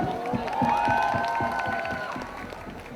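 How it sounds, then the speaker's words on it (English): Crowd at a promotional event for the film Jackpot clapping in a steady rhythmic beat while cheering and whooping, with a sustained amplified tone riding over the claps. "Clap your hands, Mithai."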